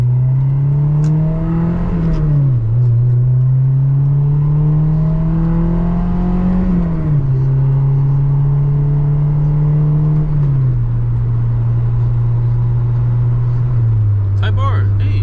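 A Honda S2000 driven with the windows down, its engine droning loud and close, pitch climbing under acceleration and dropping at several gear changes, with road and wind noise underneath.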